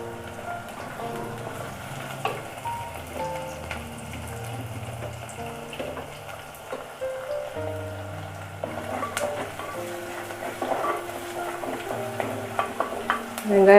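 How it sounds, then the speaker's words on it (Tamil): Onions and garlic sautéing in a pan for a spicy bean curry, producing a continuous crackling sizzle with occasional stirring scrapes and clinks, close by, over faint tonal background sound and no speech. "வெங்காயம் நல்லா வதங்கட்டும். இது கூடவே முடிச்சு வச்சுருக்க பூண்டு போட்டுடலாம்."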